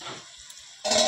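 Ground spices for mutton kosha fry in a pan and get stirred: a short sizzle at the start, a near-silent gap, then a louder burst of frying and scraping at the end.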